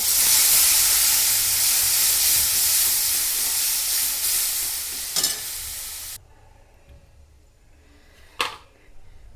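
Yogurt and turmeric hit hot garlic tempering for a Marathi yogurt kadhi, setting off a loud, bright sizzle that fades and then drops off, leaving near-quiet with a couple of short clinks.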